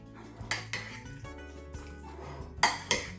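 A spoon scrapes and clinks against a bowl while Russian salad is stirred together with mayonnaise, giving irregular metallic knocks and a couple of sharper clinks near the end.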